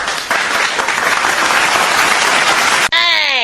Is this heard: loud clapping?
yes